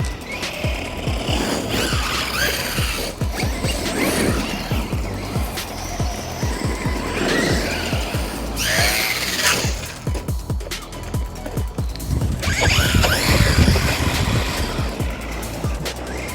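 An Arrma Vorteks RC stunt truck converted to Outcast running on 4S power, its electric motor whining and revving continuously with surging bursts and tire scrabble as it pulls and holds wheelies, fairly close and without speech.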